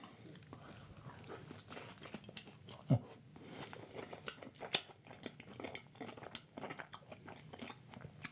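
A vegan egg roll gives a sharp, close crunch as it is bitten, with a softer second crunch and quiet chewing in between.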